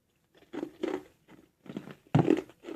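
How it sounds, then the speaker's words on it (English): Close crunching while eating, a series of crisp bites and chews in irregular bursts, the last one loudest, with no talking. "Excuse my crunching."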